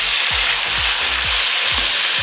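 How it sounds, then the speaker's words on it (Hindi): Onions sizzle and fry in a pan for a mutton chanp gravy, a steady loud hiss with soft periodic thumps of stirring about every half second, no voices. "प्याज को हमने 2 से 3 मिनट के लिए फ्राई कर लिया है"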